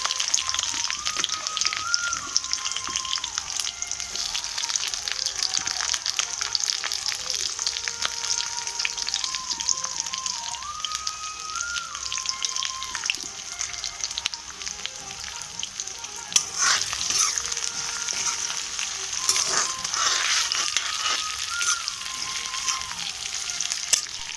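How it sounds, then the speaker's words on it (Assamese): Onion and green chili fry in hot oil for a chicken and mustard-greens curry, a dense, continuous crackling sizzle like heavy rain, loud and close, with occasional stirring knocks and no speech. "এয়া মই দিছোঁ এতিয়া পিঁয়াজ আৰু জলকীয়া"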